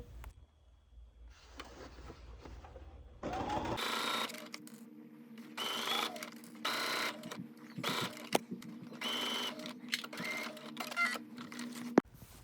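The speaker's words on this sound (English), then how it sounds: "go ahead and take it to your sewing machine and stitch" A sewing machine stitches an invisible zipper in rapid mechanical bursts, starting and stopping several times, fairly close and moderately loud.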